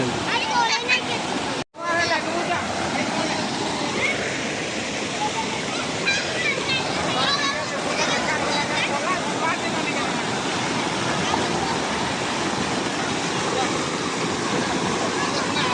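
Floodwater rushes over a village bridge after rain, a loud continuous roar of churning water close by, with voices and crowd chatter mixed in throughout.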